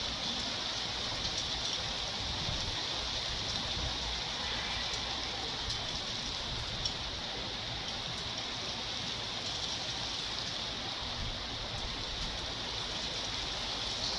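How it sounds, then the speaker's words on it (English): Rain comes down steadily and evenly all around, a dense hiss of drops on surfaces with no voices, holding at a constant moderate level throughout. "here comes the rain now"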